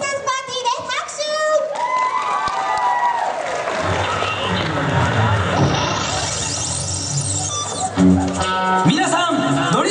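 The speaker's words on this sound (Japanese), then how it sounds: "ドリームスターズパーティーで拍手" Crowd applause and cheering swell at the start of a mascot and cheerleader dance show at a Chunichi Dragons stadium event, loud and sustained for several seconds alongside music and a voice over the PA.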